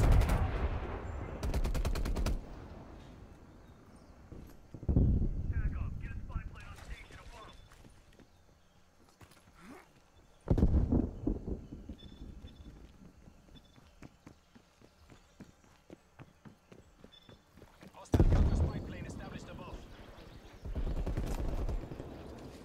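Gunfire in the Call of Duty Black Ops Cold War multiplayer beta, sharp bursts of shots and rapid automatic fire coming in several loud clusters, separated by quieter stretches of footsteps and movement.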